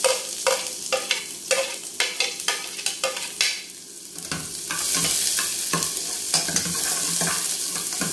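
Garlic and onion sauté for a chicken asado siopao filling: a utensil scrapes and stirs in a pan in quick rhythmic strokes at first, then a steady close sizzle takes over, loud and continuous with no talk.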